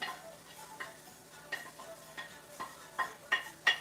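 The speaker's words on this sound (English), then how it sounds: "we're going to add our peppers and then we're going to just let it fry" Peppers frying in a pot for a Liberian spinach soup, a quiet sizzle broken by scattered clicks and stirring taps that grow a little louder toward the end.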